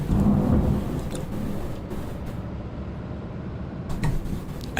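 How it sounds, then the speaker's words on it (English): Low, loud rumbling thunder rolls continuously, deep and heavy, fading slightly before swelling again near the end. "That's thunder."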